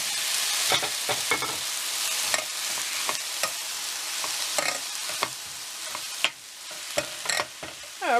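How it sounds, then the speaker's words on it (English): Minced garlic and vegetables fry in a pan with a steady, close crackling sizzle, broken by irregular scraping clicks as they are stirred, with no talking. "We're going to keep on frying."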